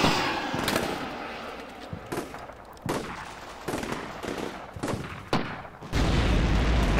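Loud sharp blasts and booms in a military video game around a Javelin anti-tank missile launch, several separate impacts spaced a second or so apart, with a heavier sustained roar at the end.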